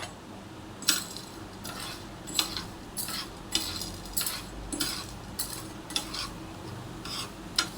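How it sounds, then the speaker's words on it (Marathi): Bhagar and sabudana are dry-roasted on a hot griddle over a low flame. A utensil scrapes and taps the grains in a regular rhythm, with soft gritty stirring between the strokes, close and fairly quiet. "गरम तव्यावर भगर आणि साबुदाणा हलकासा भाजून घेऊ."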